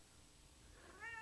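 A cat meows once, briefly and faintly near the end, against a quiet indoor background.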